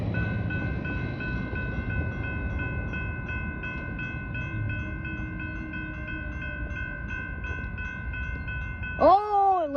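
A CSX freight train rolls past nearby with steady rumbling and a sustained multi-tone horn chord held for several seconds, ending in a brief rising cry of excitement at the close.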